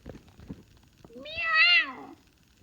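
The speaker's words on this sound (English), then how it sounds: "It's the meow contracted into one note" A single sharp cat meow, one contracted rising-then-falling note lasting under a second, clear and close against a quiet background with faint soft rustles before it.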